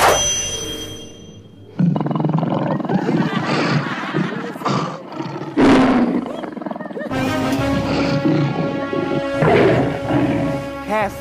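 A tiger roars loudly in a TV comedy sketch where it is summoned onstage, with deep, drawn-out bursts repeating over several seconds and layered with crashing effects.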